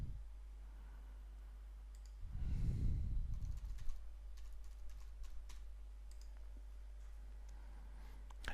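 Someone types a username on a computer keyboard during a Joomla 3 website install: a brief burst of keystroke clicks around the third second, then quieter scattered taps over a steady low background hum.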